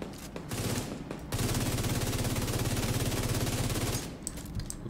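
Rapid automatic gunfire in The Division 2, a steady burst of evenly spaced shots lasting a few seconds, moderately loud, with brief pauses before and after.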